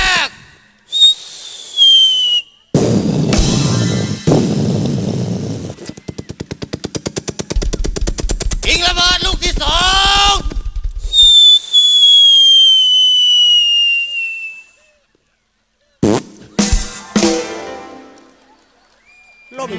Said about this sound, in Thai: ทิ้งระเบิดลูกแล้ว